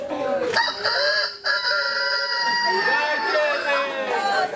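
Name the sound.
child imitating a rooster crowing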